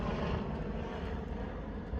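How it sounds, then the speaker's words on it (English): A helicopter passing overhead gives a steady, loud, broadband engine and rotor roar that fills the whole moment with no break. "This helicopter went over my head"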